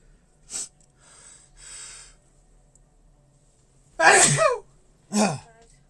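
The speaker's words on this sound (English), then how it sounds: "I've got a sneeze coming on." After a few soft breaths and sniffs, a loud, close sneeze bursts out in two sharp explosive parts, followed by quiet.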